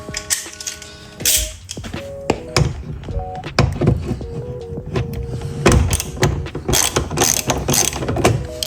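A bolt is worked loose with a ratchet on the door of a Nissan Y33 Cima, giving rapid clicking pawl bursts, close and loud, broken by clunks and handling knocks throughout.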